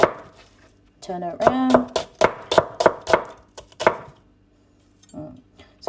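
A knife chops onions for chili con carne on a board, a rapid run of about a dozen sharp, close cuts in uneven rhythm, with a short spoken remark before and a brief pause before a final pair of chops.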